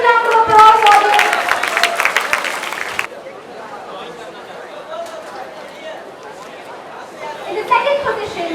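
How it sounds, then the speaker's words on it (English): Audience applause at a youth festival award ceremony, a loud burst of crowd clapping with chatter that drops away after a few seconds, leaving murmuring and a voice over the hall. "Please give her a huge round of applause, audience."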